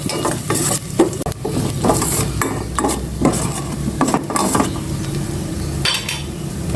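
Garlic fries in hot oil in a cooking pot, a loud continuous sizzle and crackle with repeated stirring scrapes and light clinks of a metal spoon against the pot, no voices.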